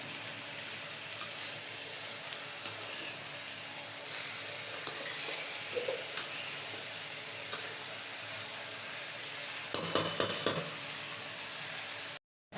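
Cabbage frying in a pan for a fish-head and cabbage dish, giving a steady broadband sizzle and hiss that holds throughout, with a few soft stirring clicks and a cluster of louder scrapes near the end.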